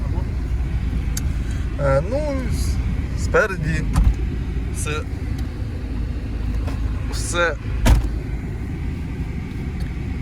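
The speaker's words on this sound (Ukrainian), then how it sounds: "ми зараз прогріваємо машину" A Chrysler PT Cruiser idles as it warms up after a fluid and antifreeze change, a steady low rumble running throughout while people talk nearby.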